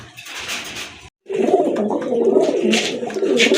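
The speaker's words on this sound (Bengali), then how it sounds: "আরেক জোড়া কবুতর দেখতে পাচ্ছেন মিক্স সাইজের এক জোড়া মিলি কবুতর" A pair of pigeons coo close by in low, throaty rolling calls that keep going after a brief silence, with some rustling beforehand.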